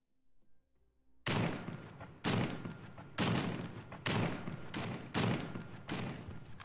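Gunfire in The Front survival game: silence, then six loud, evenly spaced heavy shots about a second apart, each with a ringing tail.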